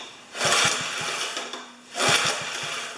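A 4HP horizontal Briggs engine with dry fuel lines being cranked without starting, two bursts of pull-cranking with rapid chugging compression pulses, close and alone.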